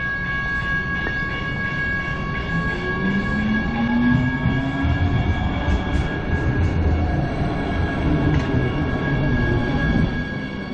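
An NJ Transit light rail train in Jersey City rumbles steadily along the track, a continuous roar with rising and falling motor whine and occasional clanks.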